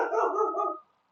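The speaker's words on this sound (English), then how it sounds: "you can hear my dog barking in the background" A dog barking indoors in the background, one short loud bark-whine that quickly fades to silence.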